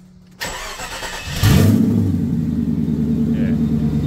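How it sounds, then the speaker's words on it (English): A car engine cranks briefly, catches and fires, then settles into a loud, steady idle close by, with a faint voice in the background. "Start her up"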